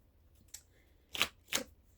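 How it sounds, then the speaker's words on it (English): A tarot card deck being shuffled, with a soft riffle followed by two sharp, quick card flutters against quiet room noise. "let me get a good shuffle in"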